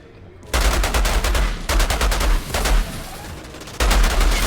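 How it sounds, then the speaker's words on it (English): Shotgun and assault rifle gunfire in the Outriders video game, loud close bursts of rapid shots in several separate volleys with short pauses between them. "Shotgun assault rifle."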